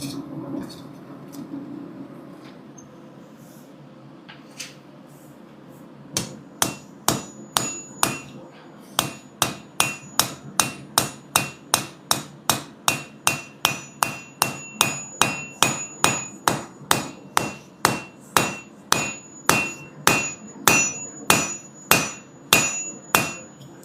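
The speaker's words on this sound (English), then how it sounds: "You are not supposed to use this side of a dog's head hammer." A dog's head hammer strikes with its flat side, starting with a few scattered taps and then settling into a long, steady run of evenly spaced, sharp, close blows, about two per second, with no talking.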